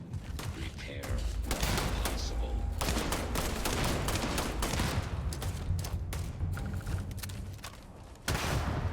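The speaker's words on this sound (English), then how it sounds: "I love the random explosive bullets of this" Explosive bullets fire from a weapon in the sci-fi game Starfield, a loud continuous barrage of rapid shots and thuds that cuts off briefly near the end before resuming.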